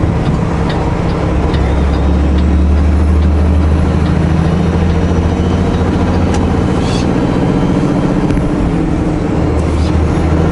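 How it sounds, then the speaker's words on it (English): A heavy truck rolls across a bridge in Lower Mainland traffic, producing a loud, constant low engine rumble and road roar with faint hiss and clatter above it, no voices. "are you doing there, truck?"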